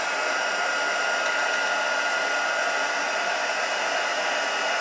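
A heat tool blows hot air onto embossing powder on card hearts, a loud steady fan-like hiss that runs unbroken and close throughout.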